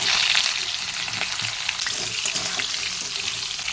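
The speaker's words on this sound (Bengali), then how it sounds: "আমি প্রথমে মিষ্টি কুমড়োটা দিয়ে দেবো এটা একটু ভালো করে ভেজে নেবো মানে হালকা করে ভেজে নেবো" Sweet pumpkin pieces frying lightly in oil in a pan produce a continuous, close, even sizzle with faint stirring scrapes, and no voices over it.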